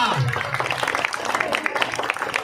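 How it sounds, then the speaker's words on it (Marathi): Audience applause at a Chembur, Mumbai gathering, a loud, dense patter of many hands clapping throughout, with voices from the crowd mixed in. "वाजवा टाळ्या."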